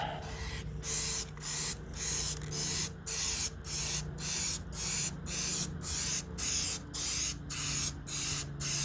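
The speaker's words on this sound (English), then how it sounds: "I tend to choke up with spray paint too." Repeated short bursts of DipYourCar Piano Black HyperDip spray hissing from a can onto plastic body cladding of a 2004 Saturn VUE, about fifteen evenly spaced sprays with brief pauses between, close and steady.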